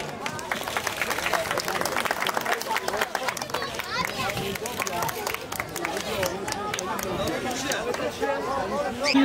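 Crowd at an outdoor picnic gathering of a Bitlis association in Başakşehir applauding as presidents are invited to the stage, steady clapping mixed with chatter and voices throughout.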